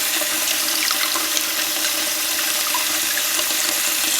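Lukewarm tap water runs steadily over tea-dyed yarn being rinsed in a sink, a continuous close splashing hiss with no talking.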